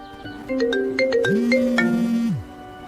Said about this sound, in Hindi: तभी उसका दोस्त करण का फोन बजता है।